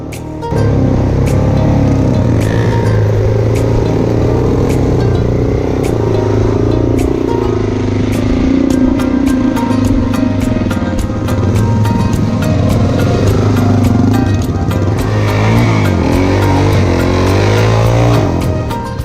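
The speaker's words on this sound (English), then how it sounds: "This time another soft sand crossing that creative lines were needed to get through without drowning bikes." Motorcycles push across a soft sand crossing on the Telegraph track in Cape York, their engines droning loud and close without a break, rising and falling in revs under steady rumble and wind noise.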